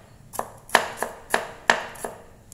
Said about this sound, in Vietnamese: Còn chỗ hành này thì mình sẽ băm nhỏ ra để mình xôi cà chua lên cho thơm.